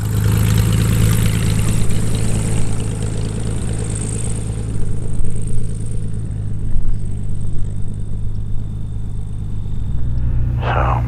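A Beechcraft Bonanza's propeller engine runs steadily on the ground before takeoff, a loud continuous low drone with a strong engine hum that shifts slightly near the end.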